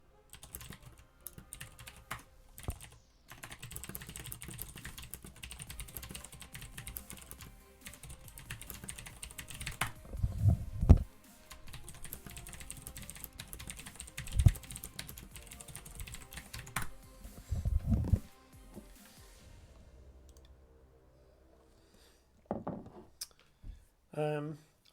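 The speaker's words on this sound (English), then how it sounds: "Let me type." Typing on a computer keyboard during an online Duelyst card-game draft, keys clattering in irregular bursts across the stretch with a few louder knocks and a brief pause near the end.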